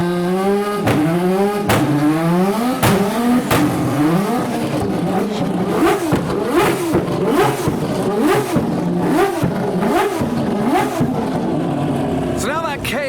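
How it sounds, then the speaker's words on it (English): Adrian Newey's car based on the Aston Martin Valkyrie, a loud nearby engine revving hard in repeated rising and falling sweeps, with sharp blips between pulls and crowd noise underneath. "this is Adrian Newey's project based on the Aston Martin Valkyrie that he helped develop"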